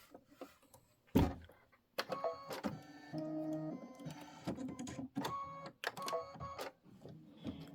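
A computerized embroidery machine quilts a star-themed quilt block, giving off a soft mechanical whir with rapid stitching bursts and brief pauses, fairly quiet and close, with no talking.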